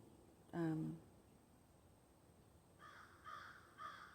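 Raven giving a loud, harsh call once near the start, then three shorter, fainter caws in a quick rhythm, against a quiet outdoor background.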